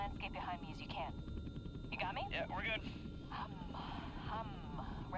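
Helicopter in stormy weather in the game Outlast 2, a steady low rotor rumble beneath a talking voice that runs through most of it, moderately faint.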